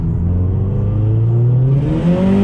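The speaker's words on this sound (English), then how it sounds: "Oh, wheel spin, wheel spin, wheel spin!" A Mazdaspeed 3's engine revs hard under full acceleration with wheel spin, its loud droning note rising steadily in pitch close up inside the car.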